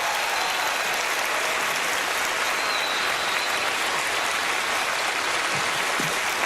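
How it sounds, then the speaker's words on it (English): Studio audience at the magic show Penn & Teller Fool Us giving Teller a round of applause, with steady, dense clapping from a large crowd that holds at an even level throughout. "Round of applause for Teller as he comes out here."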